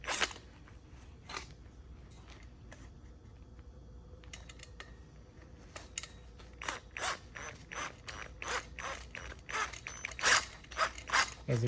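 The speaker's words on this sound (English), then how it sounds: "I'm just gonna kind of preliminarily screw in the 2 screws here." Screws are driven slowly by hand into a wooden corner desk, giving faint, sparse ratcheting clicks that grow quicker and louder toward the end.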